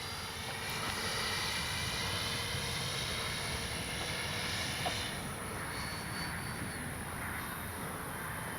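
Steady, loud engine and propeller drone from an E-flite SNJ-5 Texan RC model airplane in flight, continuous and close, with a slight dip midway and no talk.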